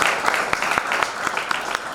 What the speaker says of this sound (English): Can we please clap for the general?